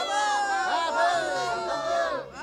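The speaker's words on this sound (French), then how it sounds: "Ah, les acclamations, c'est la plus schtroumpf des musiques pour moi." A cartoon crowd of Smurfs cheers and acclaims: many high, excited voices shout and whoop together, loud and continuous, with rising and falling cries.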